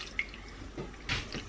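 Water poured into a pot of slow-cooked Moroccan lamb stew, heard as a few brief, close splashing and dripping bursts over quiet kitchen background, with no talking.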